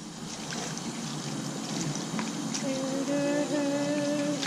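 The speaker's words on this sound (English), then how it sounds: "Damien, watch the water." Steady running water trickling and splashing continuously at close range as a dog is washed, with faint tonal squeaks near the end.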